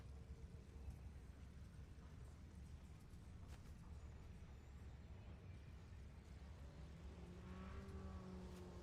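A car engine drones faintly in the distance, a low continuous rumble that rises slightly toward the end.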